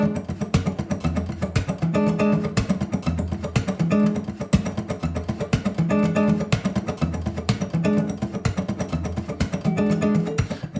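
Brisk fingerpicked acoustic guitar with a steady driving rhythm, bass notes and plucked chords repeating quickly and evenly throughout, no voices.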